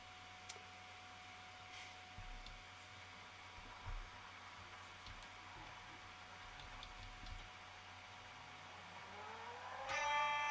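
A 380-horsepower drag race car in the Roblox video game, its engine a steady mechanical drone that climbs into a sharp, rising rev near the end as the car launches.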